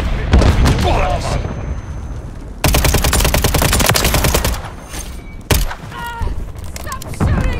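Loud automatic gunfire rattles in rapid bursts through a Call of Duty: Modern Warfare III war-mode firefight, with long sustained volleys, sharp single cracks and shouting voices mixed in close.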